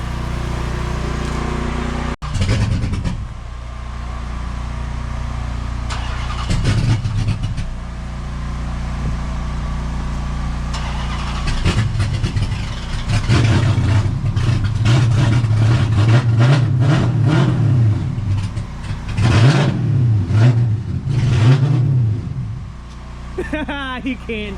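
A Hemi 5.7 Magnum fitted with a Warthog camshaft and 392 intake rumbles loudly nearby, with a choppy idle and several blips of revving that rise and fall, while people talk over it.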